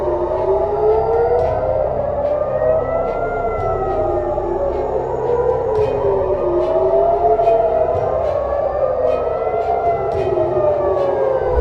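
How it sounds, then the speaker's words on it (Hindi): Air raid sirens wail across Israel during a Houthi missile attack, loud and continuous, the rising and falling tones overlapping without a break. "उस वक्त पूरे इजराइल में हवाई हमलों के सायरन बजने लगे थे।"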